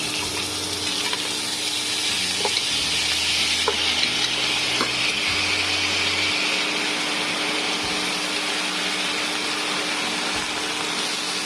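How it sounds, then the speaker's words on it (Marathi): Washed rice sautéed in hot ghee with green cardamom and cinnamon for Narali Bhat coconut rice: a loud, steady sizzle with occasional stirring clicks and a low hum running underneath, and no voices. "तापलेल्या तुपात मी आता धुवून घेतलेले तांदूळ टाकते"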